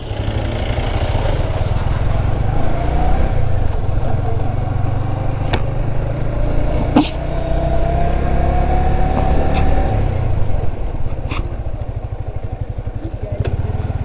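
A motorcycle rides along the Alikadam road in Bandarban with its engine droning steadily up close. The throttle rises and falls gently, with scattered rattles and passing clatter.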